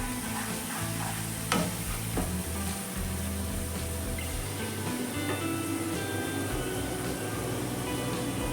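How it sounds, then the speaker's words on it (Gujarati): Onion paste sizzles softly in a pan as it sautés, with a steady low frying hiss and occasional light scrapes and taps of a stirring spoon, with no talking. "આ પેસ્ટને આપણે થોડીક વાર સાંતળવાની છે."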